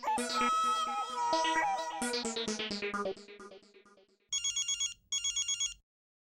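A phone rings with a melodic ringtone jingle that fades, then two bursts of electronic trilling rings, close and clear with no talking.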